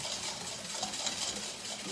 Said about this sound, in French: Alors là, je le fouette vivement.